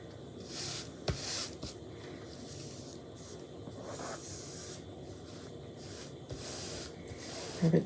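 Soft, faint rubbing and brushing strokes as a chalk transfer stencil is pressed down onto a surface, a few short scrapes and taps scattered across the quiet.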